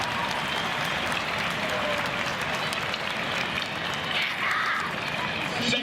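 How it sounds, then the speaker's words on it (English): Crowd applause for the Mayo Gaelic football team after the Connacht senior football final in Castlebar, a broad, continuous roar of clapping from a large, distant crowd with some cheering mixed in. "Round of applause for Mayo"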